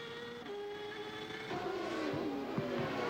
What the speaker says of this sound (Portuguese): Olha como ele volta com os pneus frios, acelerando ali na chicane.